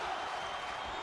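Steady crowd roar and cheering from an arena audience at a video game e-fed wrestling match, a continuous broad wash of noise with no distinct peaks.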